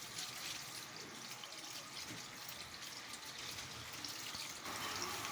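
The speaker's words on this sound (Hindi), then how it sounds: "ये ठंडे पानी के साथ इनको साफ़ करें हम।" Cold water gushes steadily from a tap as cooked macaroni is rinsed for a chicken macaroni recipe, a continuous close splashing hiss that grows a little louder near the end.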